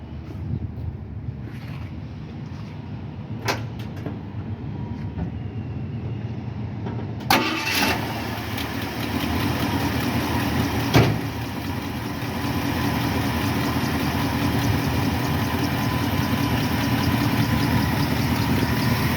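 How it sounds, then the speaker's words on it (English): A 1976 Ford F-150 pickup truck engine, with an adjusted carburetor, cranks and catches after a few clicks and handling noises, then settles into a steady, rumbling idle close by. "I'm gonna start the engine and we'll see."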